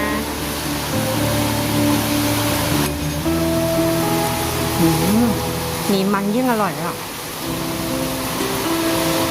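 Heavy rain makes a constant loud hiss that fills the background for the whole stretch while people talk over it.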